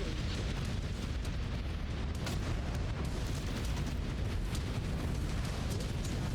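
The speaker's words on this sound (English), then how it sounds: "Oh, I'm definitely good on that artillery call." Artillery strike explosions in the game MechWarrior 5: Clans, a dense, continuous roar of booming blasts and rumbling detonations filling the whole stretch, loud and unbroken, with no voices over it.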